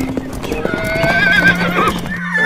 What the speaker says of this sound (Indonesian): Wow, lihat teman-teman, ternyata kuda.